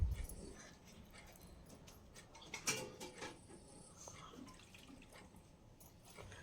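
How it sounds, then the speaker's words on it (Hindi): Small cups and little plates being washed by hand in a basin of water, with faint drips, gentle sloshing and a brief clatter of dishes, quiet and close. "तो एक आध को प्याला, छोटी प्लेट धो ले रही हूँ बच्चे लोग के लिए अथरी में।"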